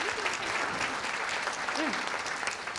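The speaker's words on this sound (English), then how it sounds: "Would you give Priya a round of applause?" An audience at a panel discussion on palliative care for people with dementia claps steadily for a panelist, a dense, continuous wash of applause with a faint voice briefly audible underneath.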